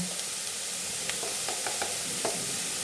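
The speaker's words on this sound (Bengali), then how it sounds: "গ্যাস কমিয়ে লবণ দিয়ে যদি পেঁয়াজটা ভাজি পেঁয়াজটা ভাজা হয়ে যাবে" Chopped onions fry with salt in a little oil over a lowered gas flame, giving a soft, steady sizzle with a few short stirring scrapes and clicks and no talk.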